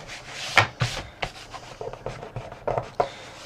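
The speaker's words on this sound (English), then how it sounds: "then just burnish it down. That's it, so that it sticks" Paper being burnished flat onto a gatefold album page by hand, a series of soft, close rubbing and scraping strokes in irregular bursts, with no talking.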